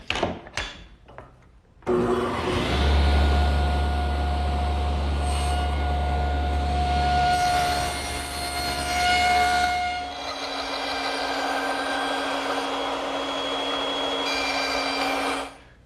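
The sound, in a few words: saw making short shoulder cuts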